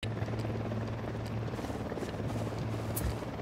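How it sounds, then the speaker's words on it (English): A helicopter approaches in the video game Ghost Recon Wildlands, a loud steady rotor thrum with a low droning whine filling the scene throughout. "Chopper's approaching."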